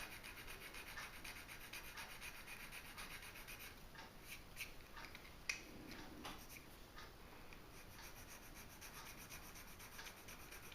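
Casting flash is smoothed off a small model engine part by faint, steady rubbing and filing strokes, a quiet continuous scrape with a few light clicks partway through.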